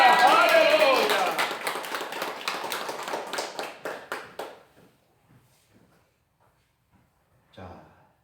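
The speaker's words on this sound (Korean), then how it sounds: "우리 부활의 주님께 박수 영광." Church congregation bursting into loud applause during an Easter Sunday service, the clapping dense at first, then thinning into separate claps and fading out, with a short voice at the end.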